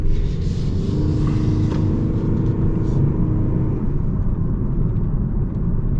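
A 2026 Toyota Prius PHEV accelerating in hybrid mode, with a steady, loud engine and road rumble that holds throughout from inside the cabin.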